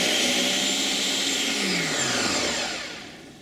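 A kitchen blender whirring through tomatoes and onion for spaghetti sauce, a loud steady motor roar that slowly winds down toward the end.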